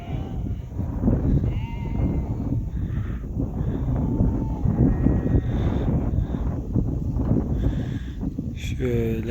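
Lambs in a shepherd's flock on high hillsides bleat repeatedly, several calls overlapping near and far, over gusty wind noise on the microphone.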